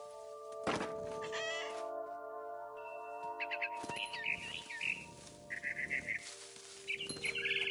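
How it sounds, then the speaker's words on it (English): A barn swallow in the Edith Finch video game chirps in quick bright bursts among soft thumps and a sustained musical tone, the calls fairly faint and scattered across several seconds with no talk. "Then I heard chirping outside my window. It was a barn swallow going back to her nest."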